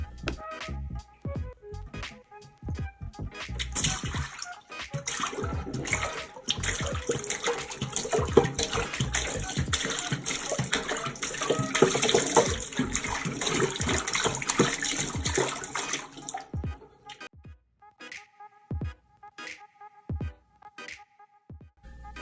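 Water gushes steadily out of a draining tank in a lab experiment for about fifteen seconds, then stops, leaving a few faint drips and clicks.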